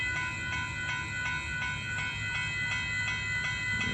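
A southbound Amtrak Eagle 21 passenger train rolls past a crossing at Dittmar Road in Austin, Texas, a steady close rumble of wheels and cars with faint rhythmic clatter and bright tonal ringing running throughout.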